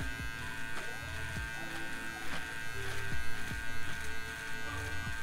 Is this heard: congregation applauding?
no